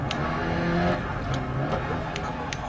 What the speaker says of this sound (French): même le son des moteurs et tout, il est bien rendu quoi.